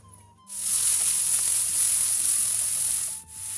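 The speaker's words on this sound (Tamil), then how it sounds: "நாங்கள் அரைச்சி வச்ச பேஸ்ட்டை அப்படியே போட்டு அதை வதக்கி எடுக்கணும்" Ground spice paste dropped into hot oil with cinnamon and cardamom for brinjal pickle, bursting into a loud, steady, close sizzle that holds for a few seconds and briefly dips near the end.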